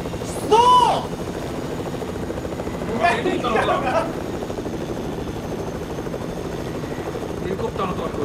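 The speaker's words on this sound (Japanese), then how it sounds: "ヘリコプターの音が聞こえる。" A helicopter's rotor drone hums steadily in the background of Fortnite game audio, with a few brief sharp effects and voices breaking in at moments.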